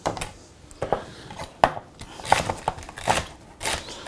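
Celery being chopped for turkey stuffing with a knife on a board, a series of irregular close crunchy cuts with short pauses between them.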